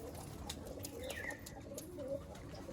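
Malwai pigeons coo softly amid a quiet flock, with a few low murmuring calls and faint chirps over light background noise.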